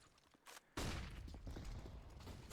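Grenades going off during a competitive Counter-Strike-style ESEA Advanced match, heard as a muffled pop followed by a loud sustained blast and rumbling that stays strong to the end, with no talk over it.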